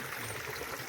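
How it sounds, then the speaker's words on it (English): River water in a Kenyan village, used for fetching cooking water, flows with a steady, soft trickling wash that holds evenly throughout at low level, with no voices. "this is a faded river where we fetch water for cooking"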